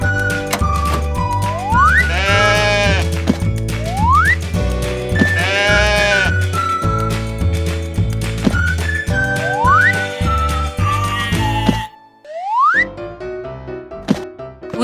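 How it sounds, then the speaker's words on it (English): Farm sheep and goats bleating in several wavering calls over a steady rhythmic musical backing, close and loud, with a short drop in sound near the end before more bleats. "Sheep and goats coming back."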